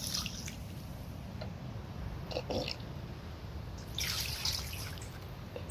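Coconuts are washed in water, giving quiet splashing, dripping and trickling with occasional louder sloshes, heard close and soft with no talk, as part of cooking a Jamaican saltfish run down.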